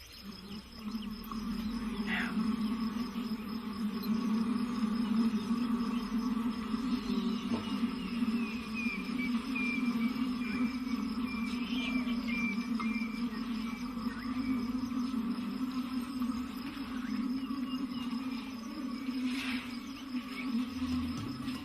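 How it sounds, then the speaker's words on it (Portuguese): A recorded buzzing of African bees, played near elephants, forms a steady droning hum that stays continuous and moderately loud throughout, with faint higher chirps over it. "os pesquisadores reproduziram o aparentemente inofensivo zumbido de abelhas perto de um grupo de elefantes"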